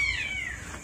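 A cat meows once, a single drawn-out falling cry standing out near and clear against low background rumble.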